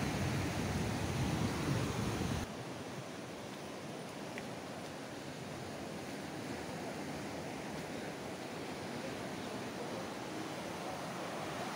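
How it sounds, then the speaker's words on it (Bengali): Sea waves break on the shore at Bakkhali near Fraserganj, a broad steady wash of surf that is louder at first, then settles into a softer continuous roar with no voices. "এই জায়গাটা সাংঘাতিক ঢেউ।"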